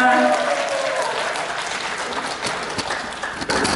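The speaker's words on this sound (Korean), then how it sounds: "자, 여러분 다시 한번 뜨거운 박수." An audience at a fan club launch event in a civil defense education hall in Gumi claps warmly, a loud, steady burst of applause that tapers slightly, with a voice faintly audible underneath.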